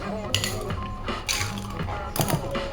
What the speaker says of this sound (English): we're gonna take our glasses and we're gonna add little scoops of crushed ice to them both